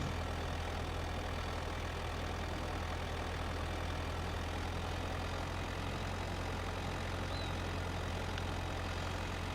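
A tractor engine in the video game Farming Simulator 25 runs steadily while pulling a trailer up snowy hills, a constant low drone with a strong hum and no speech over it.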